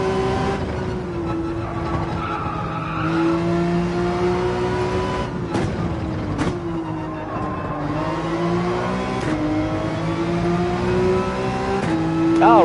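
A race car in a racing video game at Deep Forest holds a steady, droning engine note that rises and falls through gear changes, with brief sharp shifts and rising revs near the end, loud and close with no talk.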